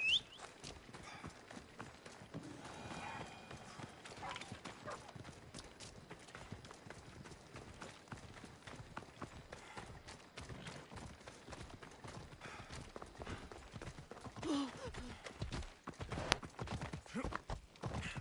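Horse hooves clip-clop at a steady gallop in Assassin's Creed Odyssey, a continuous rhythmic patter with scattered game effects running through the whole stretch.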